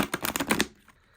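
A deck of tarot cards being shuffled by hand, a quick run of crisp riffling card flicks for about half a second that stops abruptly, leaving near silence.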